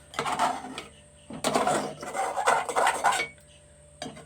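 A spatula scrapes the blackened, burnt bottom of a cooking pot in repeated rough rasping strokes, close and fairly loud, with short pauses between bursts.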